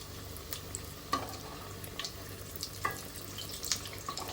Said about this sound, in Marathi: आता आपल्याला खरपूस छान तळून घ्यायचे आहेत मिरच्या